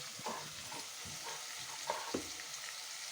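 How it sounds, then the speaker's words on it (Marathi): Onion and curry leaves tempering in hot oil for a traditional village shellfish dish, a steady faint sizzle with a few soft stirring scrapes and clinks, no talking. "फोडणी देण्याचं काम चालू आहे इकडे आहे कांदा टाकलेला आहे कांदा तेल कढीपत्ता"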